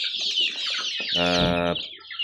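Xanxian breed chicks and chickens about one and a half months old, high peeping from the chicks throughout with a loud harsh squawk from a bird in the middle, close and busy with no talking.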